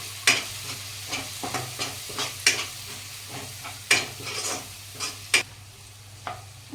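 Cumin and red chili powder stirred in a hot pan for dal baati, a spoon scraping in regular strokes with sharp clinks over a low steady sizzle, close and without speech.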